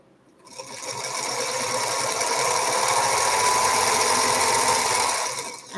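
A sewing machine stitches fabric in one steady, fast whirring run of about five seconds, starting and stopping abruptly and heard up close.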